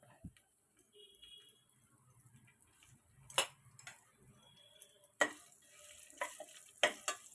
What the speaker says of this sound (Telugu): ఈ పోపు అంతా బ్రౌన్ కలర్లో వచ్చేదా బాగా కలుపుకుందామండి.